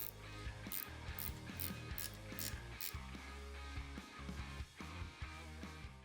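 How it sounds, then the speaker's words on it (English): An 8mm ratcheting wrench works on headlight standoff screws, giving quick rapid clicking bursts with brief pauses and small knocks, close and faint. "here, I'm using an 8mm wrench and then a 3/16 hex bit for the screw."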